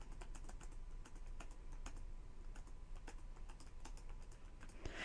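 Keys pressed on a TI-84 graphing calculator while entering data values, a quiet close series of light plastic clicks in an uneven rhythm, steady throughout with no talking.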